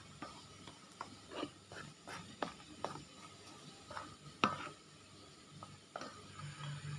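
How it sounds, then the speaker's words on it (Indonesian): A spatula scrapes and smooths freshly mixed cake batter for a rolled batik sponge cake, making soft, irregular scraping and tapping strokes, close and quiet, with no talk. "Saya rapikan adonannya terlebih dahulu dengan menggunakan spatula."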